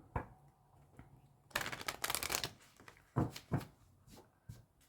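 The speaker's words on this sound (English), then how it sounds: "for those who want to join me while I'm shuffling." Tarot cards being shuffled close up: a few soft flicks, then a longer riffling burst and a couple more quick shuffles, fairly quiet.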